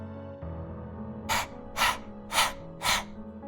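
Four loud, rhythmic breathy pants from a boy, evenly spaced and close up, like a dog panting, over a low steady hum.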